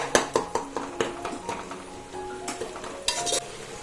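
Cooked tomatoes being mashed in a pot for raw jackfruit dum biryani, with a utensil clinking against the metal in a steady run of sharp knocks, close and fairly loud, with no talk.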